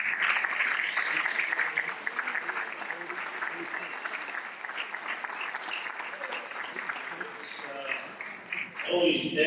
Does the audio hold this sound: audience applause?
yes